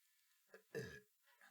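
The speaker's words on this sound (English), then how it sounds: "Sorry, of I had to burp." A single short human burp, a low guttural belch framed by faint throat noises, close and quiet, on its own between stretches of speech.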